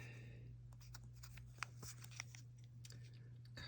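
Scissors snipping gel nail material, a few small crisp cuts and rustles heard close and faint over a steady electrical hum.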